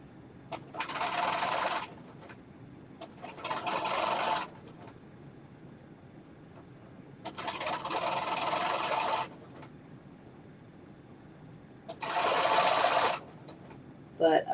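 A sewing machine stitches in the ditch along a seam on an off-the-shoulder dress, running in four short bursts of a few seconds each separated by quiet gaps, fairly close and with no talk.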